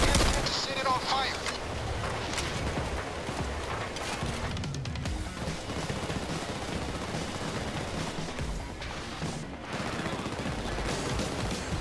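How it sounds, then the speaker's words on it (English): Dense gunfire crackles continuously through a firefight in the video game Payday 2, with shots aimed at a gas can to set it alight, heavy and overlapping with no break. "Shoot the gas can to set it on fire."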